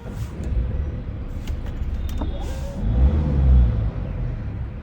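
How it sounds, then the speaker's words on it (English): A 2024 Mercedes-Benz GLA AMG Line engine rattles at low speed inside the cabin, a steady low rumble that swells briefly midway, heard without talk. "When you're at lower speeds, you do hear a lot of rattling from the engine"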